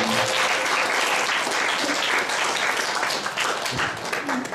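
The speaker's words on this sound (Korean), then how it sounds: "우리 찬양팀 고생이 많은데 박수 한번 쳐주십시오." Steady applause from a church congregation for the worship team at a youth service, dense continuous clapping filling the room and tapering slightly near the end.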